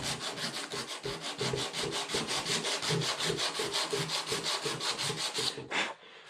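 Rapid back-and-forth sanding strokes on a plastic bumper of a 1993 Ford Escort GT rasp rhythmically and steadily for several seconds, then stop abruptly with one last scrape.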